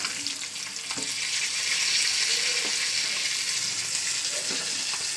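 Pieces of silver carp sizzle in hot oil in a pan with a steady, loud crackling hiss, and a few soft clinks of utensils sound over it, with no talking.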